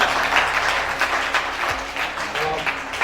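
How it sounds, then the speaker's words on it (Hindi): An audience at a youth education programme applauds to welcome a guest to the stage, with thick, continuous clapping that holds steady for a few seconds. "तालियों की गड़गड़ाहट से स्वागत कीजिए"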